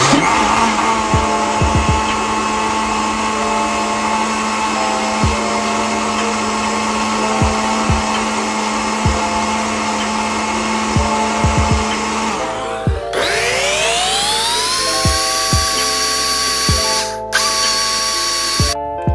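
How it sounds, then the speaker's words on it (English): A blender whirring at high speed through homemade ice cream ingredients with evaporated milk: a loud, steady motor whine that shifts pitch sharply partway through, then keeps spinning, with occasional clunks and no voices. "after putting all the ingredients into the blender, you can mix it at high speed."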